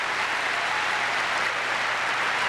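A tennis crowd at a San Jose match between Rusedski and Agassi gives dense, steady applause with cheering, loud and continuous throughout.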